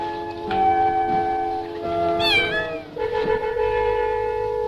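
A black cat meows several times in a row, close and loud, its drawn-out tonal cries rising and falling with a steady hum beneath and no talk.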